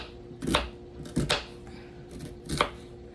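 Onion chopped on a cutting board with a knife, three separate bursts of two or three quick close thuds each, spaced about a second apart, against a quiet room background.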